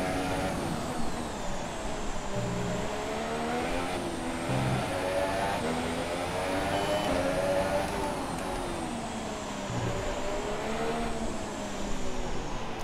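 A Haas Formula 1 car engine in the F1 2017 video game, at a Singapore Grand Prix qualifying session, drones steadily with high revs, rising and falling slightly through gear changes, loud and continuous with no talk.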